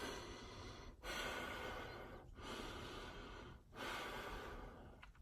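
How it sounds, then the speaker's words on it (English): Heavy, exaggerated breaths, loud and close, come in long broadband rushes broken by three brief pauses, like deep drawn-out inhales and exhales with no talking. "I'm over exaggerating my breath"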